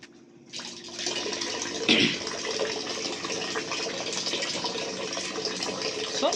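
Water running from an Enagic Kangen water ionizer, starting after a short quiet moment and then pouring steadily with a hissing, splashing flow, one brief splash near the start, no talking.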